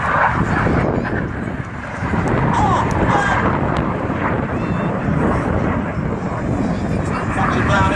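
Red Arrows display jets roar overhead at an air show, a continuous loud wash of engine noise with wind buffeting the microphone and a commentator talking over it.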